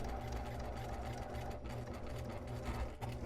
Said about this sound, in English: we're going to top stitch that closed